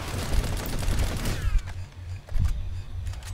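Rapid automatic gunfire in the video game Planetside 2: a dense, loud burst of shots for over a second, then a few scattered single shots and thuds that trail off.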